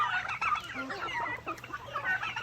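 A flock of turkeys gobbles and clucks continuously, many overlapping calls at moderate distance with farmyard chatter.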